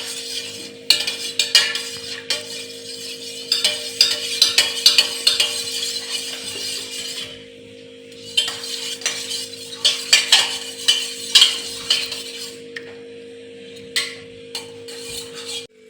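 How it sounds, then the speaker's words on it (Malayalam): A spoon stirs hibiscus tea in a cup, giving repeated light clinks and scrapes in two bursts with a quieter gap midway. A steady low electrical hum runs underneath, and no one speaks. "ഒന്ന് മിക്സ് ആക്കി കൊടുക്കാം."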